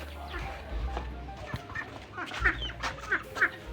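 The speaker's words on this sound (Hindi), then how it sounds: "और ये है हमारी मुर्गी" Pet hens clucking softly nearby, scattered short clucks and murmurs over a low background hum, growing a little more frequent toward the end.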